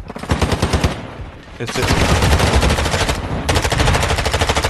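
Rapid machine gun bursts from a first-person shooter game, two long streams of fire separated by a short pause, loud and close, with someone speaking briefly over them.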